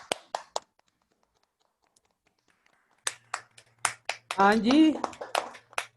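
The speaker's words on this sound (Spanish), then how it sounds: "Le vamos a dar un aplauso como lo hemos hecho con todos los grupos." Scattered hand claps from a few participants in an online class, short sharp bursts in two clusters separated by a quiet gap, with a voice briefly speaking among the later claps.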